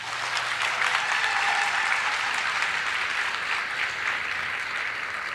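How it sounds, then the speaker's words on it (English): Audience at a school district graduation ceremony applauds graduates, a broad continuous roar of clapping from a large crowd, steady and even, slowly easing toward the end. "giving them one more round of applause"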